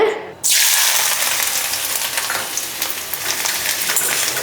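Chopped ginger, half a cup, dropped into hot oil bursts into a loud, close sizzle that then holds as a steady crackling fry with no voices.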